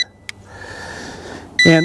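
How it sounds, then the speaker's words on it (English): A couple of short electronic beeps ring out from an LYZ RC L109 Pro quadcopter drone controller, the last one louder, over a low background hum. "And it's beeping, so that tells me that it accepted it."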